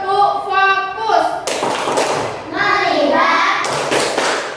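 Elementary school children in a classroom chant a rhythmic 'tepuk fokus' clapping routine, their voices loud and close, with sharp bursts of clapping between the sung phrases.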